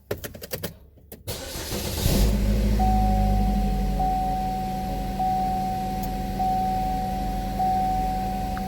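A 2012 car with a just-replaced camshaft position actuator solenoid cranks briefly and catches, then settles into a steady, close idle with a faint high whine running over the engine hum.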